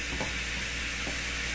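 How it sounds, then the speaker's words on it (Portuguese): Pot of beans finishing cooking on a stovetop gives a steady, fairly quiet sizzling hiss with soft bubbling, continuous and alone without voices. "Esse barulho é a panela ali que tá terminando de cozinhar o feijão"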